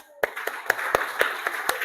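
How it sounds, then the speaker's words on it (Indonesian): A small classroom group claps for a student in about eight sharp, evenly spaced claps after a brief quiet start, fairly faint and sparse rather than a full ovation. "Ayo, tepuk tangan buat Mbak Ai."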